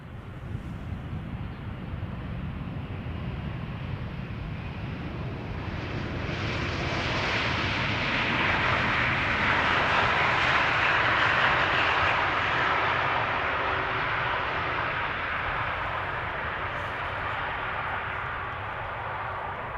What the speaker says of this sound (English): E2 Embraer in the meantime landing here, arriving from the Czech Republic, from Prague